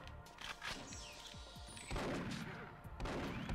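Gunfire from a slow-firing gun in the Nintendo 64 shooter Perfect Dark, Chicago mission, a few sharp bursts and impacts followed by a dense, loud rattle of shots and explosions.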